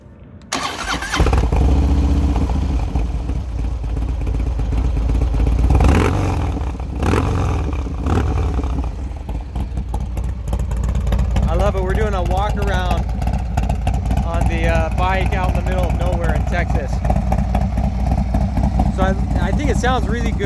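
A 2017 Harley-Davidson Dyna Low Rider S motorcycle cranks and fires up, then settles into a steady, loud, rumbling idle that stays close for about twenty seconds.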